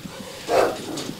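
A single deep bark from a large adult male St. Bernard, 2.5 years old, rings out briefly and fairly close in a quiet yard.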